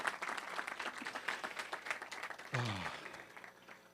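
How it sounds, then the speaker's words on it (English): An audience at a panel discussion applauds, a dense patter of many hands clapping for a few seconds, with a voice cutting in over it partway through. "That applause is for you."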